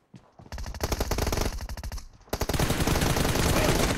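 Rapid automatic gunfire in PUBG Mobile, loud and close, with two long bursts of fast repeated shots separated by a brief pause.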